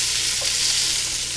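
Dumplings fry in a pan with a loud, steady, close-up sizzle that barely varies, and no voices are heard.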